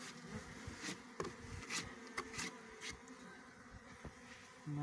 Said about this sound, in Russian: Сидел перед ульем, теперь они все подлетают.